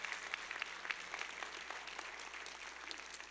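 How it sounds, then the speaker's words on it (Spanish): A church congregation applauds for the King during a service, a steady patter of many hands at a fairly low level, with a few sharper claps standing out over the sustained clapping. "Denme un aplauso bien fuerte al Rey, por favor."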